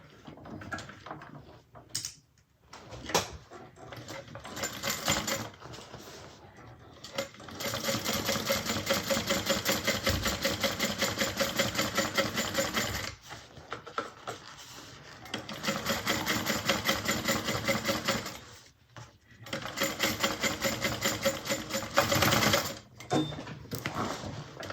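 A sewing machine top stitches a bag seam in several long steady runs of rapid needle chatter, separated by brief pauses and handling noises.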